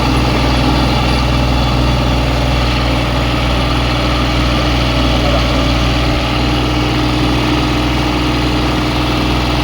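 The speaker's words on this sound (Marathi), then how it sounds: "ट्रॅक्टर चालवतोय बघा" An old tractor drives along a highway near Sangli, its engine a loud, steady low rumble and drone that holds unbroken and close for the whole stretch.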